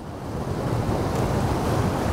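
Sea waves surge into a rocky coastal gully on the Isle of Harris in the Outer Hebrides, a steady loud roar of surf mixed with wind noise and no voices.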